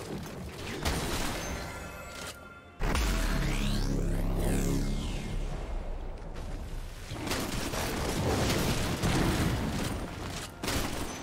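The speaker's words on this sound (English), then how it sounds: "team's turret has been destroyed" A turret collapses in a League of Legends match, a booming crash with a falling, rumbling tail rising out of busy battle noise of repeated impacts and effects, loud and sustained with no talk.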